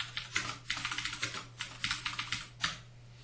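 Rapid typing on a computer keyboard while entering form details such as a name and address, close and fairly quiet, in uneven bursts of keystrokes separated by short pauses.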